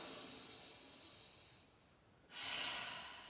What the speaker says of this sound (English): Take some breaths here.